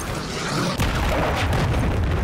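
In a video game, a cruise missile launches with a sudden heavy boom followed by a broad, roaring rumble that stays loud to the end.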